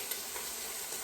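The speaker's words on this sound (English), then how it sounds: "Get our morning started with a little sizzle." Steady, bright sizzling of pork frying in a hot pan, close and continuous with faint stirring scrapes.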